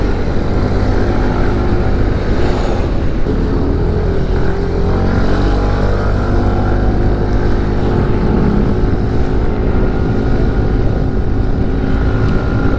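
A FreeGo 125 scooter engine revs steadily while accelerating up a hill, a loud, continuous drone blended with rushing wind noise across the whole stretch, with no talking.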